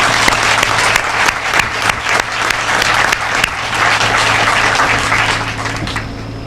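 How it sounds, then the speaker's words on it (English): Sustained, loud applause fills the room at a Prince George's County Sheriff's Office Purple Lights Nights lighting ceremony, a thick crowd of clapping hands with a low steady hum beneath, tapering slightly toward the end. "Please give them all a round of applause."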